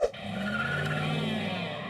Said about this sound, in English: if you're doing a tire burnout, i.e. screeching your tires on the pavement